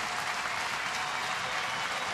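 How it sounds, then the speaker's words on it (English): A sellout crowd at a Major League Baseball game, Cleveland at Detroit in August 2011, breaks into dense, sustained applause and clapping that fills the stadium evenly throughout. "Another sellout crowd here today, trying to help Joaquin Benoit out here."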